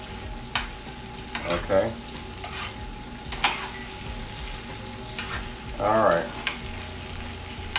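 Chicken sizzles in a skillet with a moderate hiss while a utensil scrapes and knocks as it is tossed, and someone speaks briefly.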